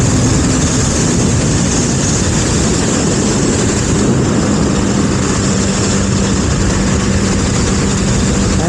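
A 2019 Honda CB300R motorcycle engine holding about 8,000 RPM at roughly 75 mph, a steady, loud drone blended with constant wind rush, unbroken and with no voices throughout.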